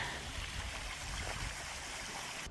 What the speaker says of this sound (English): I hear water again. Another waterfall?